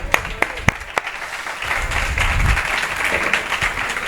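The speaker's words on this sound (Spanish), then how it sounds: "Un aplauso para él, por favor." Audience applause at the close of a talk at an event, opening with a few loud, separate claps before a denser, steady wash of clapping from a small crowd.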